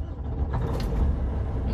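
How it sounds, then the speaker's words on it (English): A truck engine turns over and rumbles low and steady for under two seconds, with a faint mechanical creak and hiss on top and no talking. "A starting truck."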